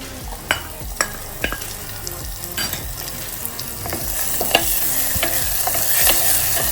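Ginger garlic paste stirred into a chicken curry frying in a pot, steady sizzle with periodic sharp spoon knocks and scrapes against the pot, close and alone.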